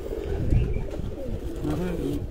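Pigeons coo in low, rolling phrases at a backyard pigeon show in Sargodha, with khaki-colored birds among them; the cooing runs continuously and fairly close, with a voice talking over it.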